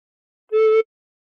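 Single recorder note played with the thumb hole and holes one and two covered, a clear steady tone held for about a third of a second, close and alone.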